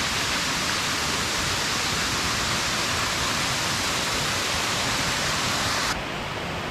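Jamge waterfall roars as a loud, broad, unbroken rush of falling water heard up close, steady throughout and dropping slightly in level near the end, with no voices.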